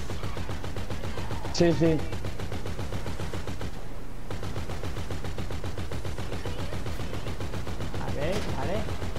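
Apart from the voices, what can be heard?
gunfire during a shootout in the video game GTA V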